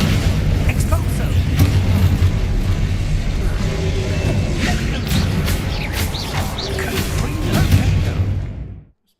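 Expulso spell blasts in Hogwarts Legacy, a run of deep booms and whooshing bursts layered over one another, loud and continuous until an abrupt cutoff near the end, with spoken spell calls mixed in.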